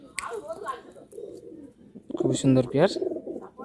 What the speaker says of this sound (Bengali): এই পায়রাগুলো কালচিরা পায়রা